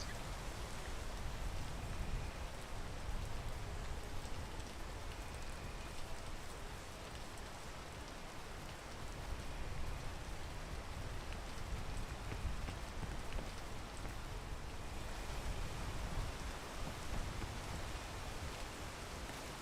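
Steady rain in the video game PEAK, a dense, even hiss of drops pattering on surfaces, continuous and fairly close with no voices.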